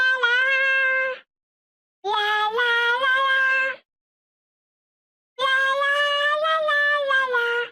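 Three bleating, meow-like tonal phrases with rich harmonics, each a second or two long and separated by silences, carry an excerpt of Queen's Bohemian Rhapsody rendered in odd animal-like voices.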